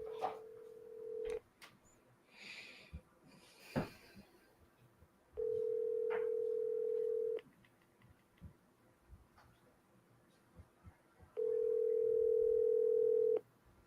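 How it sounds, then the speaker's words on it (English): Telephone dial tone on an outbound call that goes straight to voicemail, heard as three long steady tone bursts separated by quiet gaps, with faint ticking and clicks in between. "You always double dial in this case when it goes right to voicemail."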